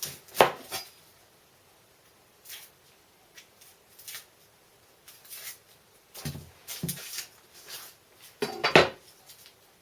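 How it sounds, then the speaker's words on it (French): An onion being cut with a knife in a kitchen: scattered close chopping knocks and knife-on-board taps come in short bursts between quiet gaps, with a few louder clattering hits. "Couper l'oignon, on enlève tout ça là."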